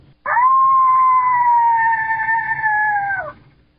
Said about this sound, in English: that's the young coyote in response